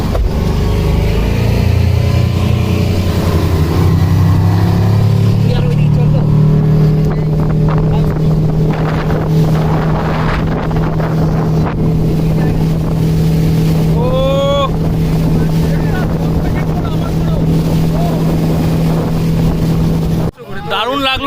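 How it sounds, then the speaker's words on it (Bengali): A speedboat engine runs steadily and loud on a river, its droning hum holding throughout with wind buffeting the microphone, a brief whistling squeal partway through and a sudden cutoff near the end. "চলো আমাদের বোট স্টার্ট হয়ে গেছে"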